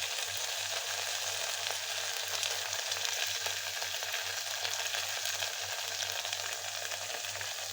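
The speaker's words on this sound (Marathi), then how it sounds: "त्यात आता बारीक केलेला कांदा परतून घेणार आहोत" Finely chopped onion sizzles steadily in a hot pan with soy sauce for Gobi Manchurian, a continuous close crackling fry with a faint low hum beneath and no talking.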